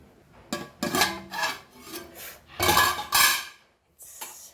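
A lid is handled over a cooking pot of chili-spiced Goan fish curry, producing a run of close metallic scrapes and rubbing clatters followed by a brief pause and a final faint clink.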